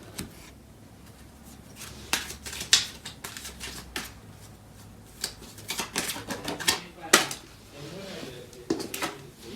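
Tarot cards shuffled and pulled from a deck, with a run of crisp, irregular snaps and slides of card stock. The clicks come close and fairly loud, with quieter handling in between.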